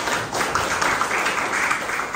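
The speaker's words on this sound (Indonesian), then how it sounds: "Kasih tepuk tangan untuk Tuhan." A church congregation applauds during a sermon, giving a short burst of dense, steady clapping that fills the room at an even level.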